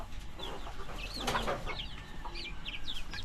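Chickens, including Rhode Island Reds, clucking and squawking close by in a quiet outdoor setting, a few overlapping calls with a soft background hum.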